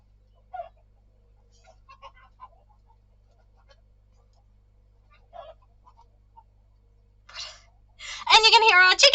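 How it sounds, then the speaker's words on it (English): Young chickens and roosters squawk and cackle harshly in a loud burst near the end, after mostly quiet stretches with soft, faint talk earlier. "And you can hear our chickens now!"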